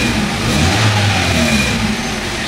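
A 2014 Hyundai Accent with low power and hard starting runs its engine, a steady loud mid-pitched drone with a slight revving swell, close and continuous with no talk.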